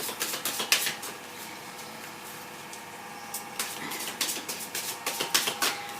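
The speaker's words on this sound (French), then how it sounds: "on va remuer, on va réveiller les cartes" Tarot cards are shuffled in quick bursts of crisp riffling and flapping, close and moderately loud, with a brief steadier pause midway before the rapid shuffling picks up again; no voices.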